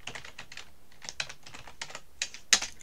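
Light, quick keystrokes on a computer keyboard as an axis title is typed into an Excel chart, a soft irregular run of taps ending in a firmer key press, heard alone and close.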